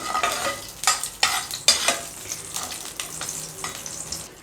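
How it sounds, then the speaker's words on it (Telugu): Cashews and raisins frying in ghee give a close sizzle, broken by several sharp scraping stirs of a spoon against the pan in the first half, then softer stirring and frying with no voice. "కొద్దిగా జీడిపప్పు, అలాగే కొన్ని కిస్మిస్ని కూడా వేసేసుకోండి."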